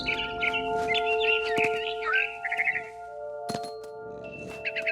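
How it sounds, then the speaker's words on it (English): A barn swallow chirps in What Remains of Edith Finch, a run of quick bright twittering notes over a steady tonal background, broken by a few sharp knocks and then a quieter stretch. "I heard chirping outside my window. It was a barn swallow going back to her nest."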